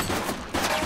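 Gunfire in The Precinct video game, a brief dense burst of rapid shots lasting under a second.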